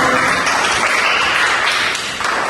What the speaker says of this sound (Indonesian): Iya, tepuk tangan untuk kelompok satu.